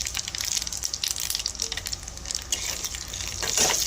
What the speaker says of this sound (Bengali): আমি শুকনো লঙ্কা ফোড়নে দিয়ে দিলাম, আর দিয়ে দিলাম 5 ফোড়ন।